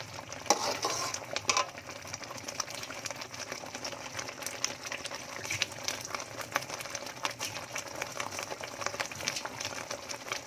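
Burong isda (fermented rice and fish) being stirred with softened tomatoes in a cooking pan, giving a continuous scraping, bubbling sizzle with rapid clicking texture throughout, no talking.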